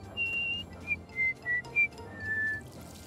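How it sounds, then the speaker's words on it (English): A Fallout 3 character whistles a tune in short clear notes, a long held tone, then several brief pitched notes and a final sustained one, over a low background hum. "You can figure out the code by just listening to the song that Betty is whistling."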